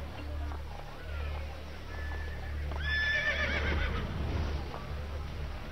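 A horse in Assassin's Creed Brotherhood lets out a loud, whinnying neigh midway, over a low rumbling game background with faint hoof clip-clops, close and clear.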